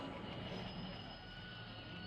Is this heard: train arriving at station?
yes